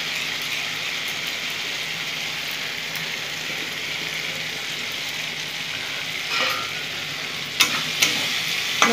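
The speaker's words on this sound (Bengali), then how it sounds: "মশলার সাথে আলুটা একটু নেড়ে নেব।" Fried potatoes for spicy dum aloo bhurji are tossed with spices in a hot pan. A steady, close hiss of frying continues throughout, and a few sharp scraping clinks from the spatula come near the end.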